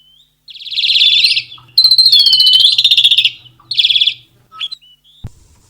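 A bird chirps from a tree branch as a sound effect in a farm radio programme, giving several clear, close, high warbling phrases separated by short silences, with no voices.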